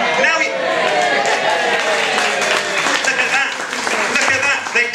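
An audience at a comedy show applauds and cheers throughout, with dense clapping and whoops that rise and fall while voices chatter in the crowd.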